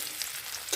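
Soybean chunks frying in oil for a vegetable pulao, a steady close sizzle with a faint crackle and one brief louder pop near the end, no talk.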